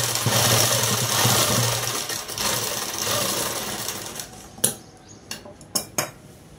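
Sewing machine stitching a long frock dress, a loud steady mechanical whir that runs for about four seconds, then slows into a few short, sharp bursts and clicks.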